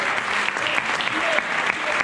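Steady, dense applause from an audience fills a welcome conference at the Trail Roc de la Lune 2019 event, a continuous crackle of many clapping hands throughout with no pauses.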